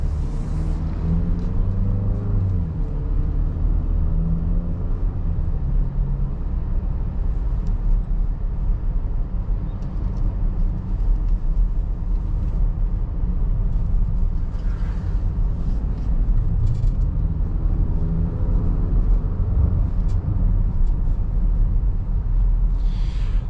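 Cabin of a 2025 Nissan Murano on the road, a steady low rumble of engine and tire noise that holds even throughout, with faint scattered clicks and no one speaking.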